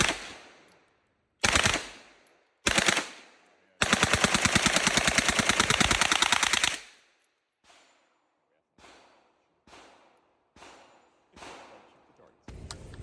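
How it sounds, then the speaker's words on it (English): FAL rifles firing at an annual FAL shooting match in Georgia, with loud, close short bursts, a long rapid burst, then several single shots spaced a second or so apart, each with a ringing outdoor echo. "We are at the FAL match in Georgia that happens every year, and we both have FAL rifles."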